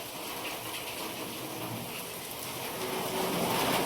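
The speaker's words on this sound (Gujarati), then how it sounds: "જોઈ શકો વરસાદ ધીમો થઈ ગયો છે ભાઈ" Rain easing off in Vadnagar after a heavy downpour, a steady wash of falling and running water that holds fairly constant and swells slightly toward the end, with no voices.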